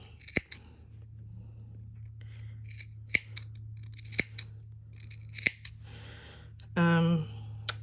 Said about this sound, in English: When I get to a shoulder bit like this, I always like to clip right into that